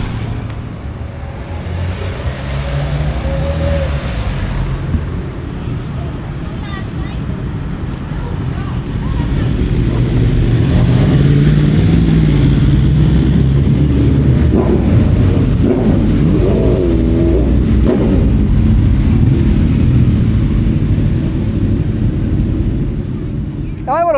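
Motorbikes rolling past in a steady stream on an annual charity ride out in Omagh, a continuous low engine rumble that swells midway, with occasional revs and someone talking over it.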